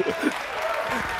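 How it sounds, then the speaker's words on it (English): Audience applause for cosplay contest winners at the MINECON Earth 2017 convention, a brief steady burst of clapping with voices mixed in underneath. "Let's give all of our winners one last round of applause."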